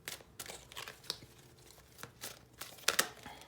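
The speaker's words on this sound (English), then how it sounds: "I'm gonna pull a few of these archetype cards" Archetype tarot cards are pulled from a deck with a run of soft, irregular paper rustles, slides and crinkles, a few sharper flicks near the end, close and quiet with no speech.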